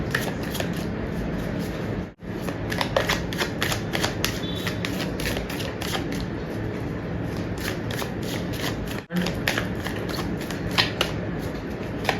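Tarot cards are shuffled by hand in a steady, rapid run of crisp riffling clicks and flutters, close and fairly loud, with two brief pauses in the shuffling.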